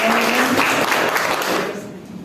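Students in a high school classroom at SMA Negeri 5 in Lubuklinggau give a burst of loud, dense applause that fills the room, then drops off sharply near the end.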